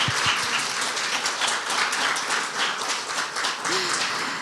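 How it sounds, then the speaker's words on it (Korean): An audience at a conference opening ceremony applauds after a moving performance, a full, lively burst of many hands clapping close by, even and continuous throughout with no talk over it. "다시 한번 큰 박수 부탁드리겠습니다"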